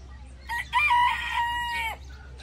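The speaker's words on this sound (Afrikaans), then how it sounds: "Hey, meneer Haan." A rooster crows once nearby, a clear, drawn-out cock-a-doodle-doo over a quiet farmyard background.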